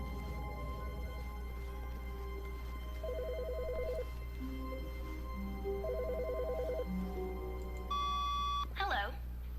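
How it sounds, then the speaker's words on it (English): A telephone rings in The Stanley Parable video game over a low steady hum, repeated electronic trilling bursts, and a higher sharper ring near the end. "Oh, I hear a phone ringing."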